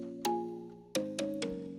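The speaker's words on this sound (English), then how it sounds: "So I'm using a patch from our pack, the X Keys. It's a bell." A synth bell patch from the X Keys pack rings out in a few struck notes, each with a bright metallic attack and slowly decaying tone, two quick hits near the end, heard alone.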